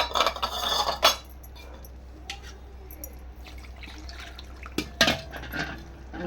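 Water splashes and pours from a vessel in a few bursts as semolina is rinsed and drained, with clinks of a metal pot in between quiet moments.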